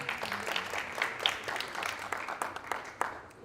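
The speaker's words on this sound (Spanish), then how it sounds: "Les pido que le demos un fuerte aplauso." An audience applauds to welcome a guest at a Spanish-language legal discussion event, with steady, fairly quiet clapping from a modest crowd continuing throughout and no talk over it.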